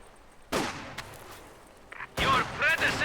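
Gunfire in Company of Heroes 2 as troops in a nearby house open up: a sharp shot near the half-second mark, a brief pop later, then a dense rattling burst toward the end, with faint background noise between.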